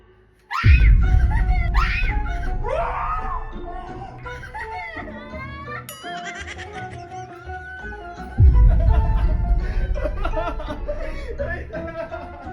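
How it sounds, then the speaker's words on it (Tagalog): Woman shrieking in fright during a horror prank, two sudden loud screams minutes apart amid laughter and excited voices, with chaotic talking in between. "Nagulat ako sa sigaw niya."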